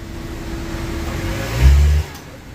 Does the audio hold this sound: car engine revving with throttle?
yes